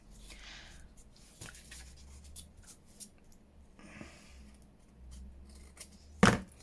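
Scissors snip through paper while junk journal tags are being cut, giving faint, sparse clicks over a quiet room hum, with one sharper, louder snap near the end.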